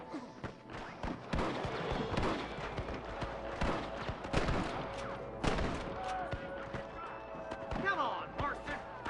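Gunfire in the Red Dead Redemption video game, with repeated sharp shots scattered through a busy firefight alongside shouting voices and other game noise.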